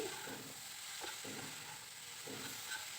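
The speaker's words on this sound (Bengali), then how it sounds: "এভাবেই একটু নেড়ে চেড়ে বাঁধাকপিটাকে ভালো করে ভেজে নিচ্ছি" Cabbage mixed with spices frying in a pan, a faint steady sizzle under a few soft stirring scrapes, quiet and even, no voices.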